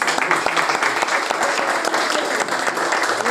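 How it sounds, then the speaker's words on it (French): Audience at a street football final in Marrakech breaking into dense, continuous applause, close and loud, with distinct sharp claps over the crowd. "Et moi, je vais vous applaudir"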